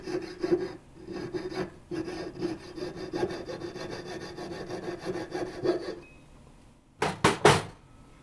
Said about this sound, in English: Taking a large file, we're just evening our saw cut.